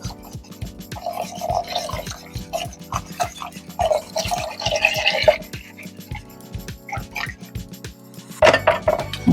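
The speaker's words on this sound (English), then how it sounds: "Slowly stir in the broth." Broth slowly stirred into thickened broccoli cheddar soup in a pot, close up, with repeated soft scraping and wet sloshing strokes in an irregular rhythm and a hum in the background.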